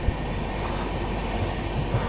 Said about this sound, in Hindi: अभी अपनी ट्रेन अराइव करने वाली है इटावा जंक्शन रेलवे स्टेशन